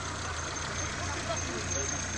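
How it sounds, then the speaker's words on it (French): A freshly cleaned Citroën Saxo engine idles evenly, a steady low hum that stays at one level for the whole moment. "Le moteur tourne bien."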